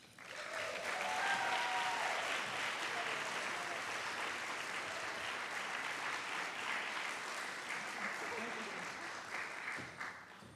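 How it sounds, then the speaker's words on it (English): Steady, full audience applause fills a university awards ceremony for an award winner, continuous and even for the whole stretch at moderate distance, with faint voices mixed in. "Join me in applauding the winner of the 2018 Camille Rajpat Memorial Award, Dylan Catty."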